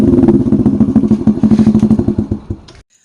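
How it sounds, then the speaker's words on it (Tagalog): Loud, close motorcycle with an SC Project aftermarket exhaust muffler and silencer insert, rumbling in a rapid pulsing idle-to-rev burble before shutting off. "Sound check natin yung SC project na yan."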